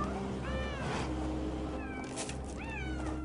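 Several cats meow around a cluttered house, a few separate rising-and-falling calls spaced over a few seconds, close and clear over a constant low background hum.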